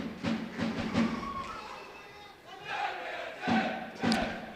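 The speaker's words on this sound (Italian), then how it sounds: "Sale ovviamente l'incitamento dei tifosi di squadra" Roller hockey fans at a Breganze match chant in rhythmic, repeated shouts that rise and fall, a crowd in a rink with an announcer's voice mixed in.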